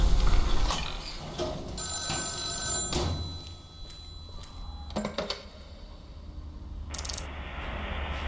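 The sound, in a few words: telephone ringing in a video game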